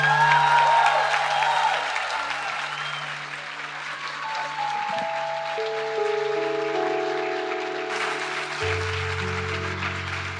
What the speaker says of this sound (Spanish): ahora vamos a darle un fuerte aplauso a nuestro pastor César Castellanos.